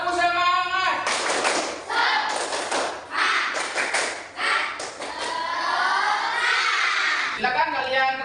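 An Indonesian school class claps together in a quick rhythmic "tepuk semangat" pattern, with voices chanting along between bursts of claps.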